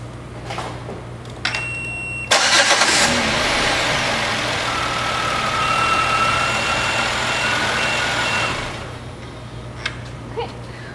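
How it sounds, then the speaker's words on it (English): A vehicle engine cranks during a battery test, a loud, steady starter whir that kicks in abruptly, runs for about six seconds without catching, then cuts off, with a low electrical hum underneath and faint clicks before and after. "now we're going to crank the vehicle"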